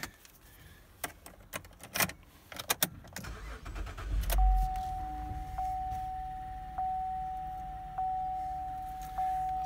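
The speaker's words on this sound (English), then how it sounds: "And we'll start it up." A 2011 Chevy Traverse LT AWD with about 112,000 miles is started up: a burst of clicks and handling noises, a brief starter crank, then a steady smooth idle with a faint tone chiming at regular intervals.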